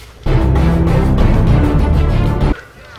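Rapid, sustained gunfire on a shooting range in Call of Duty: Modern Warfare 2, a dense loud burst of shots lasting a couple of seconds before cutting off abruptly.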